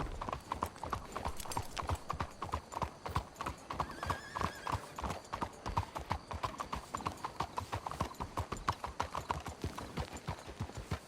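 Horses trotting in Red Dead Redemption 2, their hooves clip-clopping in a steady, dense rhythm that runs the whole way through, close and prominent, with a brief whinny partway along.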